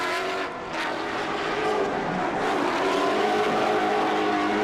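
A drift car engine revving hard at Pukekohe Park, loud and sustained with rising and falling pitch, close and continuous, with no talk over it.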